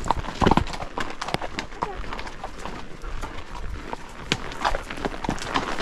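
Hooves of a horse clip-clop steadily as it is ridden outdoors on a trail, the irregular clatter close and moderately loud, with a person talking now and then over the hoofbeats.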